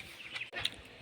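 Chickens cluck in short, close chirpy bursts over a soft outdoor background, with no voices.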